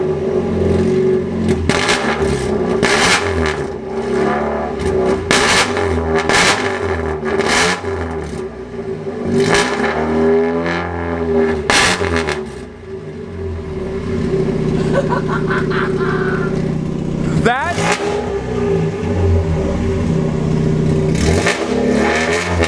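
A Mazda Miata with modified exhaust work revs repeatedly, giving sharp loud bursts that rise and fall over a droning idle. It is close and harsh throughout.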